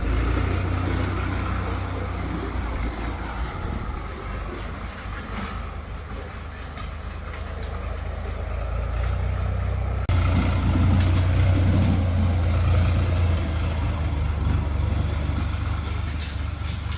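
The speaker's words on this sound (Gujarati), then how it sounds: "બધા ટ્રેક્ટર ચાલે છે" Several tractors run continuously while clearing and tilling an orchard field, a steady low engine drone with wind, growing louder partway through, no talk.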